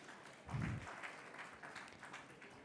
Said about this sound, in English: Ladies and gentlemen, can we have a big round of applause?